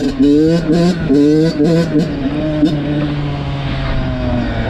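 An 85cc Yamaha YZ dirt bike engine idles and revs roughly up close, its buzzing drone rising and falling briefly before settling into a steady low rumble.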